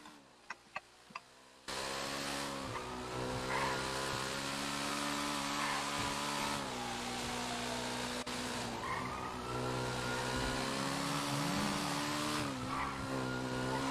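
Car in the game GTA V during roleplay driving: a few sharp clicks, then a loud, continuous engine roar that rises and falls in pitch, with tires squealing and skidding through the turns.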